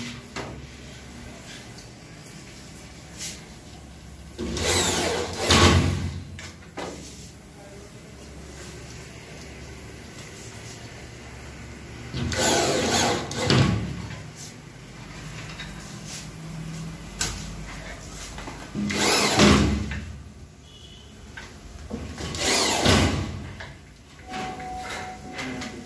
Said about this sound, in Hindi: मार्किंग बाजू में ये हम लोग का यहाँ पे स्क्रू करना होता है